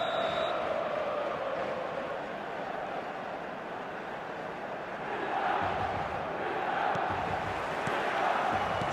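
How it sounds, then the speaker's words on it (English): A stadium crowd in the eFootball video game gives a broad, sustained roar that swells and dips gently and rises again toward the end. "This crowd doesn't do ordinary, and we should be in for something very special."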